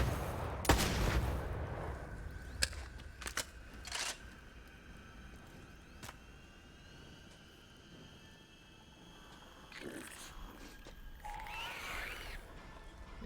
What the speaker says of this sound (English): Just had to shoot that to make it open.